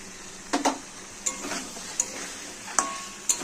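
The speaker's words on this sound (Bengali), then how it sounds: "দিয়ে মশলাটাকে আমি কষে নেবো।" Spices fry in a pan with ginger-garlic paste and tomato paste, plus chilli, turmeric and cumin powders, under a steady close sizzle. Sharp spatula scrapes and clacks against the pan come in irregular bursts as the mixture is stirred.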